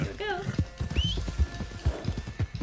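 Horse hooves clip-clopping at a steady walking rhythm in Red Dead Redemption 2, close and fairly loud, with a brief whinny-like tone early on and talk running over the hoofbeats.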